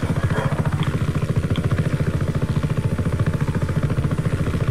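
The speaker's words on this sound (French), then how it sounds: "Ils sont vraiment très puissants les hélicoptères, hein." Helicopter flying in the video game Just Cause 3, a loud close rotor chop beating in a fast, steady rhythm over an engine drone, with no speech.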